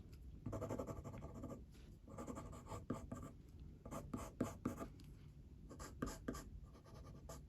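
Caran d'Ache Luminance coloured pencil drawing on paper, close and quiet, with continuous scratchy strokes and quick repeated back-and-forth scribbles in irregular bursts.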